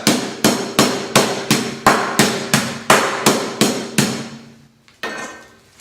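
Cream-filled sandwich cookies are pounded into crumbs in about a dozen sharp, evenly spaced whacks, each one loud and close with a short decay, followed by a brief pause and one last hit.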